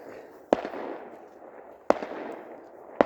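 Three sharp fireworks bangs from a neighbour's nearby New Year celebration burst out at even intervals over a low, steady background rumble in a night-time garden setting, with no voices.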